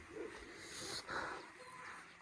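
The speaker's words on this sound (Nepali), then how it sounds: "उताबाट चाहिँ भोटे कुकुरहरू भुकिरहन् हामीलाई देखेर" Tibetan Bhote dogs bark from a distance across a high sheep-grazing pasture, faint and intermittent yaps over an open outdoor background.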